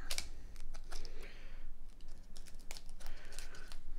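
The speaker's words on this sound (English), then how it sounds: "Cut some of this, looks like medical tape." Scissors or a blade cut through medical tape wrapped around a card mail package, making a steady run of crinkly snips and tearing rustles up close across the whole stretch.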